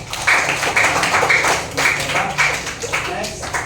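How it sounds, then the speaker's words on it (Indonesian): A classroom audience of students clapping during a computational-thinking lesson, a brief round of loud, uneven claps in quick bursts, close by, with no voices over it. "Terima kasih, tepuk tangan."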